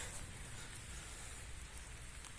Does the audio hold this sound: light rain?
yes